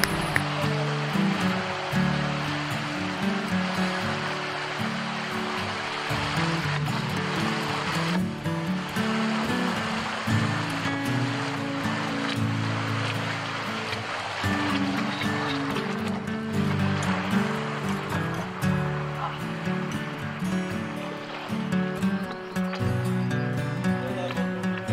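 Water rushing over a weir on a canal as a kayak paddles through, a steady, loud churning wash with shifting surges throughout, close by.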